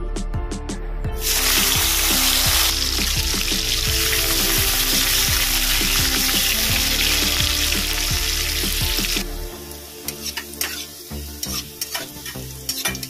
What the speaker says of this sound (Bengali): আমি এই তেলের মধ্যে উচ্ছেগুলো ভেজে নেব।